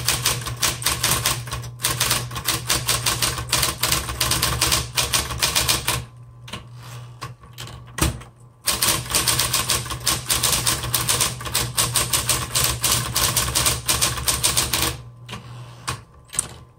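A 1960s Smith Corona Electra 120 electric typewriter types in rapid, continuous keystrokes with a steady motor hum, pausing briefly twice before resuming its clattering.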